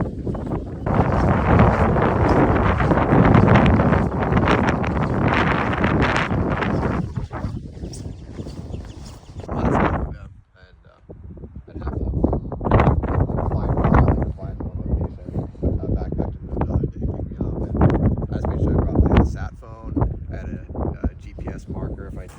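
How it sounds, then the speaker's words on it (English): Strong wind buffets the microphone in loud roaring gusts, dropping briefly before returning, with people talking underneath, outdoors while hiking in Lofoten, Norway. "It's just a little bit windy."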